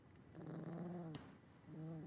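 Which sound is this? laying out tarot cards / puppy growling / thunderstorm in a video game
puppy growling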